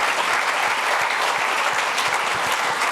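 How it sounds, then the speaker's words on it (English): A large conference audience applauds the panelists after an AI discussion, dense and steady clapping that stays loud and close for about three seconds. "give a huge round of applause for these amazing"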